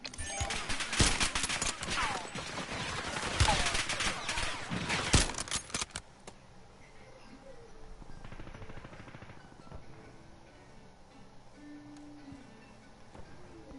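Bursts of automatic gunfire in a Call of Duty Warzone match on Rebirth Island, loud and dense for the first six seconds, then dropping to faint distant shots and ambient noise.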